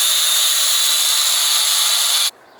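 An angle grinder cuts through the stock radiator mounting railing on a Mazda FC RX-7, a loud, steady, harsh whine that holds for about two seconds and then stops abruptly, leaving quiet.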